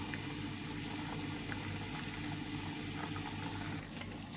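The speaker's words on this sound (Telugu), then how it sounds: "ఎంత బాగా మసులుతుంది" Sambar bubbles steadily in a pot on the stove, a continuous close, soft simmering hiss and gurgle with no talking.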